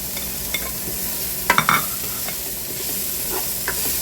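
Sliced bitter gourd frying in a pan with salt and pepper, a steady sizzle with a few stirring scrapes and clatters standing out, no talking.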